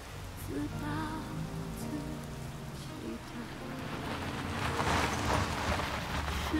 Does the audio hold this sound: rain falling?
yes